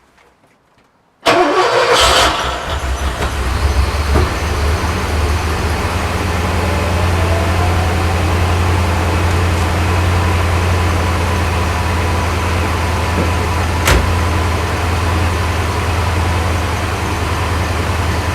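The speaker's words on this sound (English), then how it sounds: "this is another start after it running out of fuel." A Porsche 928 V8 cranks and fires after running out of fuel, catching abruptly from silence and settling into a steady, loud idle close by with no talking.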